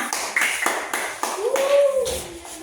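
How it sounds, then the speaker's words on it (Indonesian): A classroom group claps for the second student group after a presentation in a Christian religious education lesson, a few sharp irregular claps sounding close, with a voice speaking over the end. "Tepuk tangan semua."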